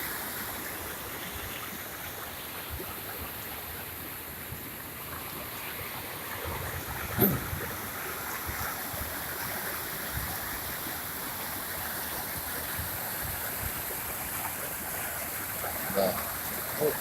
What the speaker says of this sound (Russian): А сейчас весной тут бурная река течет.